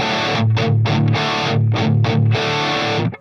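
High-gain distorted electric guitar played through a Line 6 Helix LT with no reverb, loud palm-muted chugging riffs in tight rhythmic bursts with short gaps, ending abruptly.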